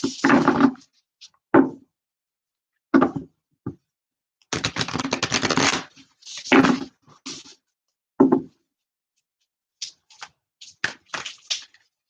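Tarot cards being shuffled in a series of short, crisp riffling bursts with pauses between, one longer flurry in the middle, close and moderately loud with no talking.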